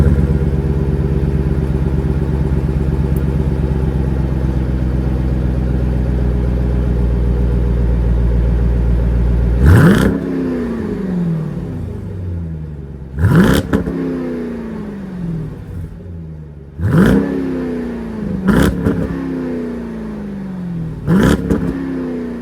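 A 2024 Dodge Durango SRT 392's 6.4-liter Hemi V8 with dual exhaust idles with a deep, loud rumble, then blips sharply five times, each rev falling back to idle.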